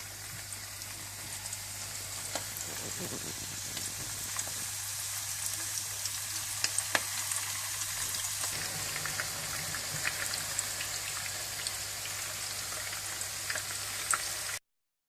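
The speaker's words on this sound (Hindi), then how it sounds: "इस तरह से फिर आप कोफ्ते अपने इसमें हल्के से फ्राई कर लें।" Koftas frying lightly in ghee, a continuous crackling sizzle like rain, fairly steady and close, with a low hum beneath and faint sharp pops scattered through.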